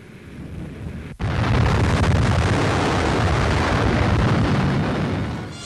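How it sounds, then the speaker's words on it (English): After a quiet stretch, a massive nuclear test explosion at Bikini Atoll in 1946 bursts in and settles into a long, deep, steady roar that fades slightly toward the end. "Finally, another view of the explosion from a different camera position."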